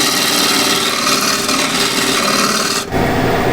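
A bowl gouge cuts apple wood spinning on a lathe, giving a continuous loud rasping, hissing shear with a brief dip near the end, close and without speech.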